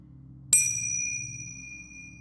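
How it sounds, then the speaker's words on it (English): A single temple bell is struck once after a quiet pause, giving a bright metallic ding whose clear ring fades slowly over a low background hum. "When you hear the bell of the temple, you wake up from this glorious nap."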